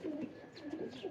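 A female pigeon from a keeper's flock of fancy breeds coos softly, a low, rolling, repeated warble heard close by in a quiet setting.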